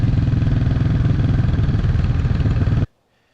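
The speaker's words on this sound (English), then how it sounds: "1967 Honda CB 450. Black Bomber, about to go on its first ride." A 1967 Honda CB 450 Black Bomber motorcycle engine runs close up with a steady, loud, throbbing idle that cuts off abruptly near the end, leaving near silence.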